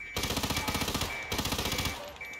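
Rapid automatic gunfire from the Hitman 2 video game rattles out in two loud, close bursts separated by a short pause.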